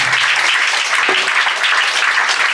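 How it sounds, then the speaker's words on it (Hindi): A church congregation applauds loudly to praise the Lord, a dense, sustained wash of clapping hands that fills the space evenly from start to finish. "जोर से ताली बजाएंगे प्रभु की महिमा करेंगे"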